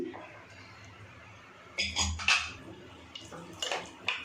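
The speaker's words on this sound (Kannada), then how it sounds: "ಈಗ ಕುಕ್ಕರ್ ತೆಗಿತಾ ಇದ್ದೀನಿ" The metal lid of a pressure cooker, opened after boiling chickpea curry, gives a few close clanks and scrapes that begin midway through. Quiet kitchen background precedes them.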